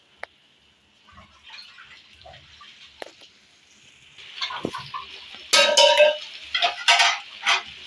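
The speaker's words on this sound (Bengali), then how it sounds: "এই যে ভালো করে এগুলো দিয়ে কষিয়ে নিই" Spices and mutton fat sizzle in a pan while being sautéed, with a hiss that grows louder and scraping stir bursts near the end, plus faint background noises.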